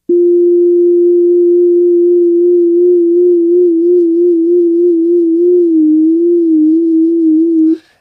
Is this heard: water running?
no